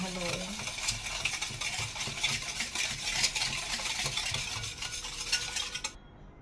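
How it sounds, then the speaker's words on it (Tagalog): A spoon stirs sugar into a puto maya mixture in a pot, giving a steady soft scraping and swishing with a faint sizzle-like hiss, continuous and close for several seconds before stopping abruptly. "Kaya haloin natin."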